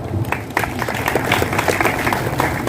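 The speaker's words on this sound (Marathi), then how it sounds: "तुम्ही टाळ्या वाजवला" Audience claps during a Marathi speech on Shivaji Maharaj, a dense, even burst of applause from a crowd that holds steady throughout.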